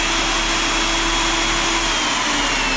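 A Hougen magnetic drill motor runs at a loud, steady, vacuum-like whir, a constant high-pitched roar that stays even throughout with no talking.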